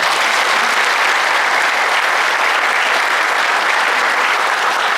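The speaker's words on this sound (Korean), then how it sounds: "서로 박수 한번 쳤으면 좋겠습니다" A conference hall full of attendees at an urban and cultural regeneration event breaks into steady, loud applause, a thick, even wash of clapping that holds without a break.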